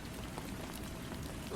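Gentle rain falls in a soft, constant patter of many small drops, even and moderately quiet throughout with no voices.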